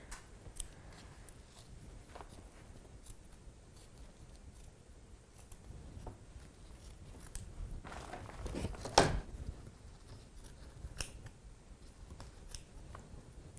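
Scissors snipping along the edge of a paper Christmas stocking ornament, a series of faint close crisp cuts in a quiet room, with one louder rustling snip partway through.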